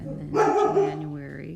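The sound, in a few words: dog barking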